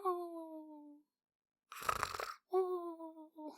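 A voice imitates snoring: a drawn-out hum, then a rough, rattling inhale, followed by another hummed snore, close and fairly quiet.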